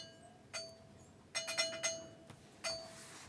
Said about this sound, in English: A subdued bell.